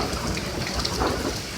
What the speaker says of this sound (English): this is the rain here in Leesburg right now